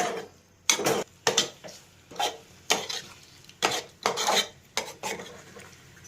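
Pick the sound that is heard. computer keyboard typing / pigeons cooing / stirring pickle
stirring pickle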